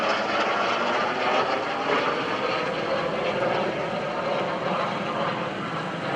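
A propeller aerobatic plane from the Warrior Flight Team performs knife-edge and inverted maneuvers at the 2012 NAS Oceana Airshow, its engine droning steadily and loudly throughout with no pauses.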